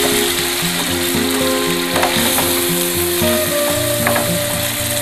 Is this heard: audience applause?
no